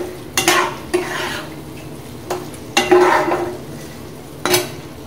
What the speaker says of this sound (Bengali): খুব ভালোভাবে মাংসটার সাথে মিশাইয়ে নেব